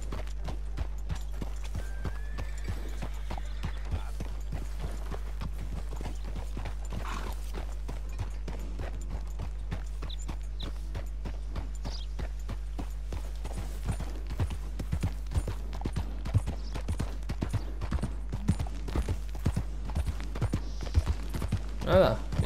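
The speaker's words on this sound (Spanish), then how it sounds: "A ver si podemos ir un poco más rápido con el caballo." Horse hooves beat in a fast, steady gallop rhythm in Red Dead Redemption 2, the thudding growing louder and more uneven toward the end over a low game background hum.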